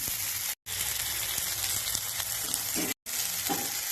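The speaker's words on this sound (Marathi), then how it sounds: "जरा छान असं परतून घेऊया दोन मिनिट" Vegetables for a homemade bhaji sauté in a hot pan with oil, crackling and sizzling continuously up close, with occasional stirring scrapes and two brief silent breaks.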